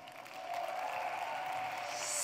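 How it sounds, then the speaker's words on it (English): An audience at a conference event applauds as speakers come on stage, a dense steady clapping that swells quickly and holds. "let's welcome them on stage with a round of applause"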